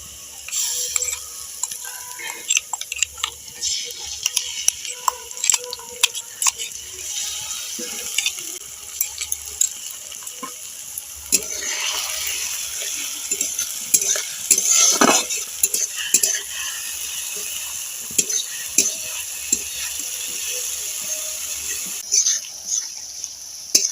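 Ground leaf paste fries with onions in a pan. A continuous light sizzle sits under frequent sharp clinks and scrapes of a utensil against the pan, close and busy, with no speech.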